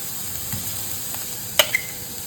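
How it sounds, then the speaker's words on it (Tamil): Onions sauté with ginger garlic paste in a pan, giving a soft, steady sizzle with a couple of faint clinks from stirring. "வெங்காயத்தை அது கலர் சேஞ்ச் ஆகிற வரையும் வதக்கிக்கலாம்."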